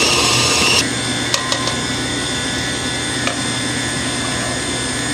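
An electric mixer beats cake batter at medium speed in a steady, loud whir. The pitch drops slightly after the first second, with a few small clicks of the beaters against the bowl.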